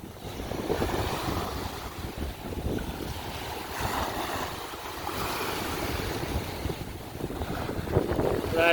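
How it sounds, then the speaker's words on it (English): Wind gusting on a Gulf of Mexico beach, buffeting the microphone in a constant roar with surf washing in underneath, swelling louder toward the end. "It's going to get a little bit windy here"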